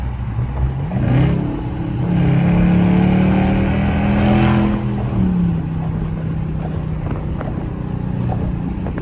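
A Dodge Charger R/T engine revs in track mode at sunset, a loud, steady V8 drone rising and falling in pitch with one sustained rev swelling through the middle, heard from inside over wind noise with no talk.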